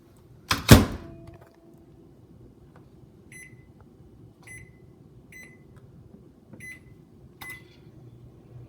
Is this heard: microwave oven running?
yes